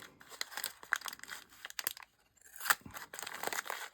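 Crinkly crunching and snipping as scissors cut through plastic packaging, in irregular bursts with a short pause midway, close and moderately loud.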